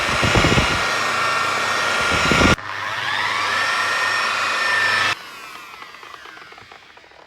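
A power polisher at speed setting 3 works car paintwork on a Cosworth, giving a steady, loud motor whine close by. The pitch and level shift twice, then settle quieter for the final stretch.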